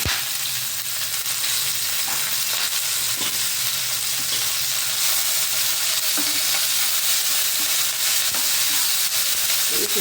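Moringa leaves sizzle and fry in a pan for chutney while being stirred. Close, continuous crackling with scraping stir strokes, and no talk.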